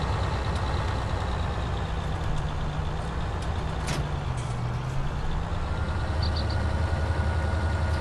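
A Challenger MT738 tractor in Farming Simulator 19 labours up a hill, its heavy diesel drone steady and loud throughout, with a brief pitch dip midway and faint clanks over the top.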